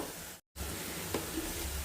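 Oil tempering sizzles steadily in a pan, with a brief drop to silence and a soft clink as chopped ivy gourd is stirred in.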